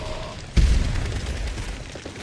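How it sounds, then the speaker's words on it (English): A heavy grenade blast in the Fallout 76 video game hits loud and close, its deep boom rolling on and fading slowly after a quieter lead-in, with no voices. "Throwing grenades at me and stuff"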